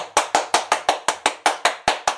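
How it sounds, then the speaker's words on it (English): Thirteen sharp hand claps in an even, quick rhythm, close and loud, each one crisp with a short decay and no talking. "We give her 13 hand claps or whatever"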